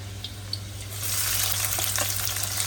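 Garlic and onion frying in oil in a home kitchen pan, a steady hissing sizzle that swells louder partway through, with no talking.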